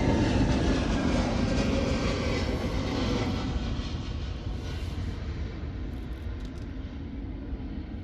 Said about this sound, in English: 787 heading to runway 26